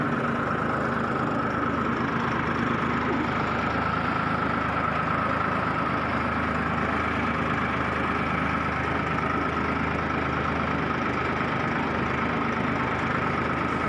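Steady, loud drone of a 36 hp tractor engine pulling a wheat seed drill, running evenly and close throughout with no break.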